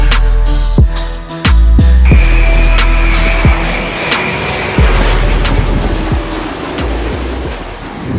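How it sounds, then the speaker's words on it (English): A passing airliner at Heathrow, heard as a loud, steady engine roar that fills the scene near the microphone, marked by repeated sharp thumps and knocks from handling or wind. "I did some plane spotting, and here's what I got for you guys to show"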